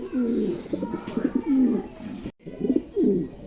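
Pigeons cooing in a loft, a steady run of soft, low throaty coos that carries on almost without a break, except for one brief silent gap near the middle. No one speaks.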